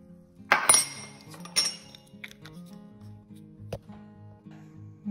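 A glass jar of basil is closed and shaken, with a few sharp clinks and knocks of lid and glass over a faint background hum.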